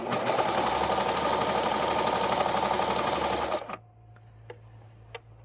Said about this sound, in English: If you've ever done serger work on stretchy fabric, you know that they will try to walk back and forth among each other.